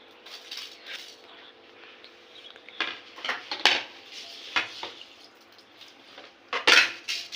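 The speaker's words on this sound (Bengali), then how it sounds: "প্লেটটাকে চাল অনুসার তুলে একটু চালগুলো পাঁচিয়ে দেবো প্লেটটায়" Washed rice is spread over a plate with a utensil, giving light scrapes and clinks of metal on the plate in irregular bursts, close and fairly quiet.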